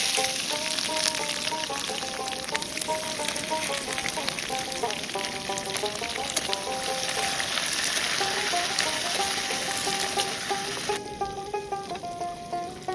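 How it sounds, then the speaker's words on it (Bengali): Onions with whole spices fry steadily in hot oil for a duck curry, a continuous dense sizzle with crackling pops running throughout, close and loud, with music playing over it. "তেলটা ভালো করে গরম হয়ে উঠলে তাতে কয়েকটা গোটা মশলা ফোড়ন দিয়ে পেঁয়াজটা ভালো করে ভেজে নিতে হবে।"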